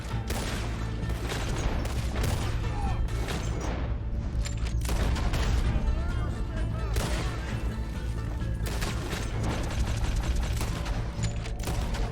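Gunfire and crashing action in Red Dead Redemption 2, a dense, continuous wall of shots, booms and mechanical clatter that stays loud throughout, with a voice talking faintly under the din.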